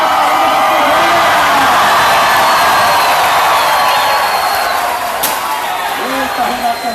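A large crowd of fans roars and cheers at the Arena da Fogueira in Mossoró, a steady loud wash of voices and whoops that fills the whole moment, with a voice speaking over it.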